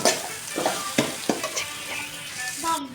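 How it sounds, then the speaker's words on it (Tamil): A spoon stirs a raw mango rice mixture in a frying pan, making several distinct scraping strokes over a steady close sizzle, with no voices. "சேர்த்து நல்லா கலந்து விட்டுக்கணும்"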